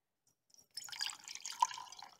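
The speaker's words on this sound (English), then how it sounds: "Pour off the water." Water is poured off a penny from a small container at a kitchen workbench, a soft close trickle and splash lasting over a second after brief silence.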